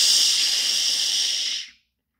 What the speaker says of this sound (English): was just going to drink a 4th one when Henry let off some steam